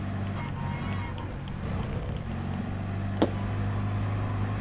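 A Volkswagen Beetle engine in Gran Turismo Sport drones steadily at low pitch, a continuous hum at moderate level with no clear revving.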